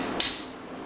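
A single sharp metallic hammer strike on a chisel at a blacksmith's forge, a bright ringing tone that decays quickly, heard alone and close.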